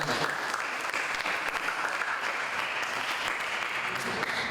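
A school audience in Jember applauds Mas Andi, a steady wash of many hands clapping at an even, moderate distance for several seconds, with faint voices underneath.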